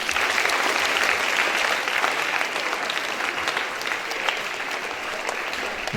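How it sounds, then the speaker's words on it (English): An audience at a National Librarian Day school event claps for Ravi, the librarian, in loud, sustained, evenly dense applause that fills the room throughout. "Can we all clap for Ravi?"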